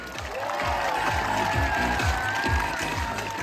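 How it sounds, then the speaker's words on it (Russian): Loud applause from a summer camp audience greeting a jury member, steady dense clapping with crowd noise throughout, while rhythmic low thumps pulse underneath. "давайте поприветствуем громкими аплодисментами"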